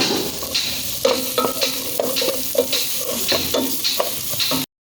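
Garlic and onion sauté in hot oil for Arabian saluna fish, a close, steady sizzle punctuated by rhythmic spatula scrapes and stirs, ending abruptly.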